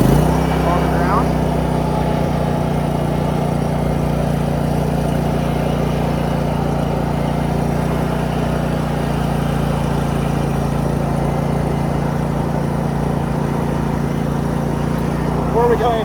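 A used 36-inch Barreto trencher runs its engine at steady higher throttle, a loud continuous drone with a firm low hum that holds evenly throughout without pause.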